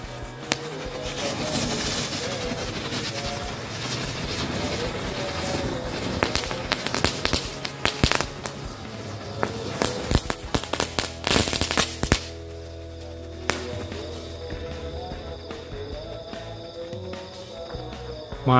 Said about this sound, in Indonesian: selanjutnya kita nyalakan satu pak mercon happy thunder